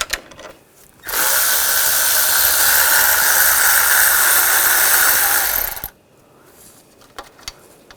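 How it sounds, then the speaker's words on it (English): A power tool spins a 10mm socket to remove bolts from the thermostat housing of a 2000-2006 BMW X5 with the 3.0L inline-six, giving a loud, steady whir of nearly five seconds, close up, with quiet clicks and handling noise around it. "using a 10mm socket, we'll take these bolts out"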